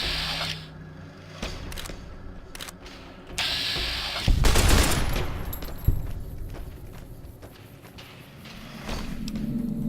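Gunfire in the video game Fallout New Vegas as scorpions attack, with several loud bursts and sharp reports over a busy game soundscape of footsteps and mechanical clatter.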